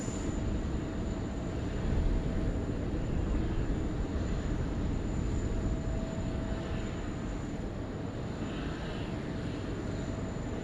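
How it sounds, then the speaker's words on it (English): An aircraft arriving on runway 16 right at Sydney Airport, a steady distant roar of engines holding at moderate level throughout, with no talk. "Next arrival here on runway 16 right."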